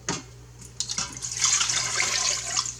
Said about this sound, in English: I'm going to drop in 2 cups of water.